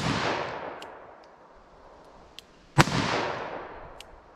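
A .44 Special revolver fired at 100 yards outdoors: one sharp, loud shot with a fading echo, among a few faint distant cracks and a soft breezy background.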